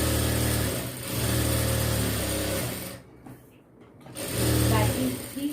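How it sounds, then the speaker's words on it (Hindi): A sewing machine stitching the sleeve of a cross-cut blouse hums and chatters steadily in two close bursts, separated by a short quiet pause. "अब इस तरह से एक कॉर्नर पर सिलाई लगाकर"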